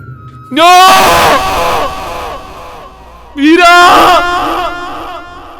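A man screams and wails in anguished grief in a dramatized scene, two long, loud bursts of raw crying separated by a brief pause, with faint background noise beneath.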